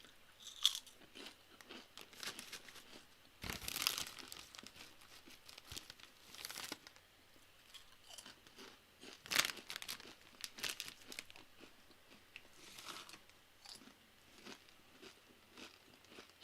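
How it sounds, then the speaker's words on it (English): Burger Bites crisps are eaten straight from the bag, with close crunching bites, chewing and loud crinkling of the packet in irregular bursts, sometimes sharp and sometimes faint, and no talking. "has just seen me munching down a bag of potatoes"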